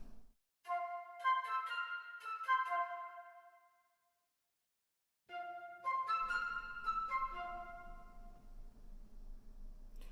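Flute phrases played through Berlin Studio reverb, two bursts of clear melodic notes separated by a pause, each trailing into a soft roomy decay, quiet and alone.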